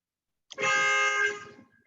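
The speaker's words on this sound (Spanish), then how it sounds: "van a escuchar acá tanto un bocinazo porque, no sé, hay un camión que está entorpeciendo el tránsito" A truck horn blares in nearby traffic by a construction site, one sustained loud honk of about a second that cuts off and fades, alone without talk.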